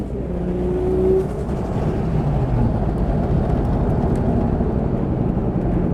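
Turbocharged 2JZ engine in a Nissan S15 Silvia revving hard and bouncing off a low 5,000 rpm limiter, a loud, dense, continuous roar that holds steady with no speech over it.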